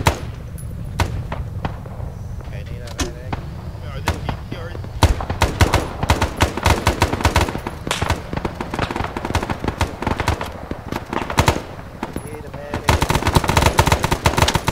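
Heavy gunfire in the video game Arma: Vietnam during a dusk ambush at a bridge, dense bursts of automatic weapons and single loud shots crackling nonstop and intensifying toward the end, with muffled voices underneath.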